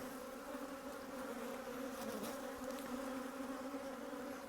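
Honey bees swarm and buzz around an open hive during an inspection, a dense continuous drone close to the face, steady and loud throughout with no talk.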